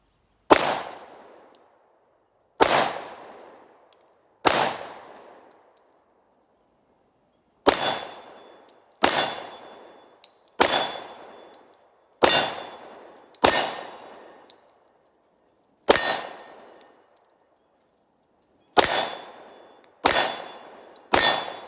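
A Glock 20 10mm pistol fires about a dozen loud, sharp shots at uneven intervals. Each crack rings out and decays before the next, and no one speaks.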